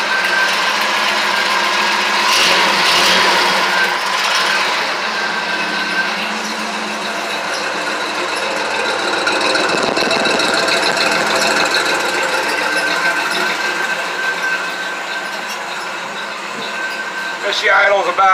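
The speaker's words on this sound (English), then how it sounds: "She idles about a little over 800 RPMs." A 1955 Chevy Gasser's engine idles cold at a little over 800 RPM, a steady close mechanical drone with a faint whining harmonic and ticking, running continuously with brief louder bursts.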